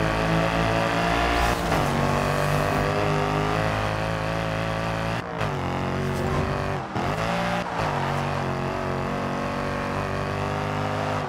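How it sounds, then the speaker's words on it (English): A car engine in Forza Horizon 2 roars and revs loudly and continuously, pitch rising and dipping with brief cuts between gear changes, synthetic like game audio. "Listen to that engine."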